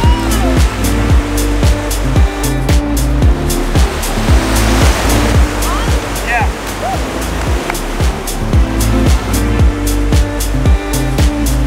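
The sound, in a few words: ocean waves breaking on the beach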